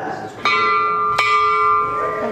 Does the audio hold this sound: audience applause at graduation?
no